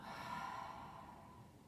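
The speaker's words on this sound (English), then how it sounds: "So I'm going to breathe in and breathe out" One person takes a soft, close breath in and lets it out during a slow posture exercise, an airy hiss that fades gently toward the end.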